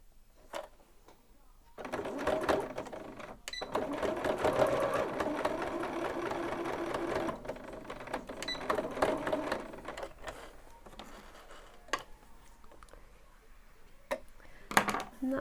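A sewing machine stitching a buttonhole by hand control, its fast rhythmic whirring running in bursts with short pauses and mechanical clicks, moderately close and fairly quiet.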